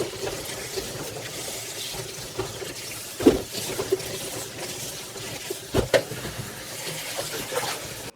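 Hot peppers soaked in vinegar water are rinsed under a running kitchen tap. Water splashes steadily, with a few louder clunks and sloshes as the peppers are handled, and there is no talking.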